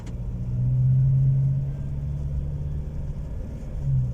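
A 2019 Ford Ranger Bi-Turbo with automatic transmission pulls away and accelerates, its engine a low steady rumble that swells and eases slightly as it climbs, heard from inside with no talking.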